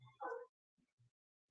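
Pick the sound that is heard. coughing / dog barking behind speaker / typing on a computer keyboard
dog barking behind speaker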